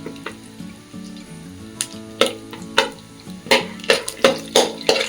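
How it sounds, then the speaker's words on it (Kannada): Avalakki oggarane ingredients roasting slowly on a low flame while being stirred, a soft sizzle broken by a run of sharp spatula scrapes and knocks against the pan, close by. "ನಿಧಾನಕ್ಕೆ ಹುರಿ, ಸಣ್ಣ ಹುರಿಲಿ ರೋಸ್ಟ್ ಮಾಡಿ."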